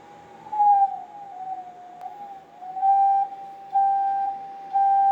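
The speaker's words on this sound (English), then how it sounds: "when I press the key, we actually have a signal." A steady electronic tone from a potato-powered keyed transmitter hums faintly, then swells louder in several distinct keyed bursts, each a clear pure pitch switching on and off.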